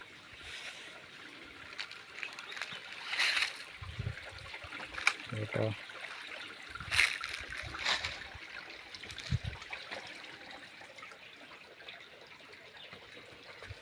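Water at Kindri waterfall near Kothale flows as a faint, steady hiss of a stream beneath louder talking voices, with a few brief louder splashes and bumps.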